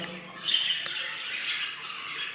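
Jumbo budgerigars squawk in a short burst of shrill, close calls among aviary chatter, with faint background noise throughout.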